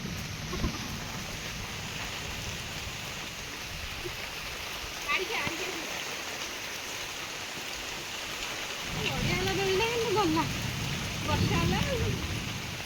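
A dense, steady roar of heavy rain during a thunderstorm fills the scene, and voices talk over it in the last few seconds.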